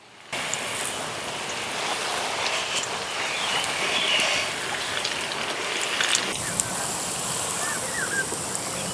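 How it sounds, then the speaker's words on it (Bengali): Steady rain falls on an outdoor surface, a continuous dense patter throughout. "এদিকে বৃষ্টি পড়তেও শুরু করে দিয়েছে।"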